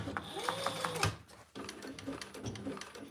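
A sewing machine top stitches along a quilted seam in short bursts, a quick mechanical whirring and clicking that stops briefly and starts again, fairly close and moderately loud.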